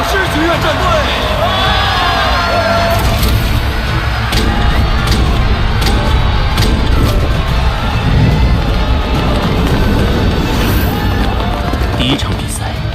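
A large tournament crowd in an animated Soul Land battle arena cheers and roars in a dense, loud, continuous wash of shouting and applause, with voices mixed in.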